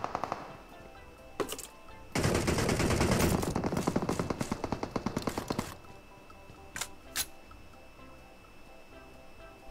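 Rapid automatic gunfire in the battle-royale game PUBG Mobile, a dense loud burst of close shots trailing into a stuttering string of separate rounds, with a few isolated shots later.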